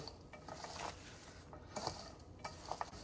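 Salted vegetables being squeezed and tossed by hand for pakoda batter, giving soft, wet crunching and rustling in irregular bursts, close and fairly quiet, with no voices.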